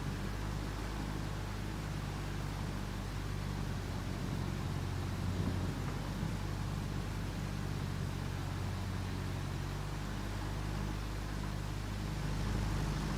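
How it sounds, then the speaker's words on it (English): Steady rain in the truck and construction game RoadCraft, a constant broadband hiss with a low rumble beneath it, even and unbroken throughout with no speech. "It's raining."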